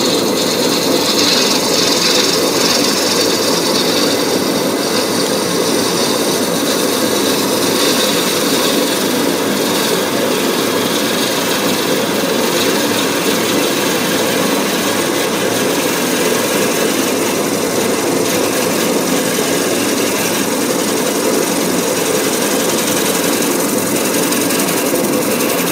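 A bevel gouge slowly rides along a wooden Beads of Courage box spinning on a lathe, making a continuous, loud, close scraping hiss in one unbroken pass with the motor humming underneath.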